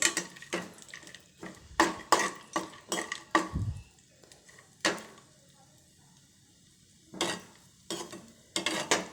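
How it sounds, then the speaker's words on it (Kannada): Almonds being fried and stirred in a pan, with repeated sharp scrapes and clinks of a utensil against the metal in uneven bursts, pauses between them, and a faint sizzle underneath. "ನೋಡಿ ಫ್ರೈ ಆಗ್ತಾ ಇದೆ"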